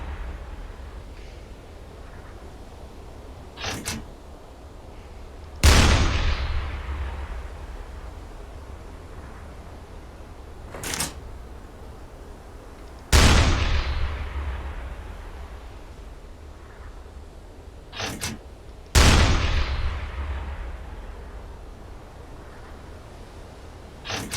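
A submarine deck gun fires in the video game U-Boat, with four loud, booming shots spaced several seconds apart. Each blast rolls off into a long fading rumble over steady wind and sea noise.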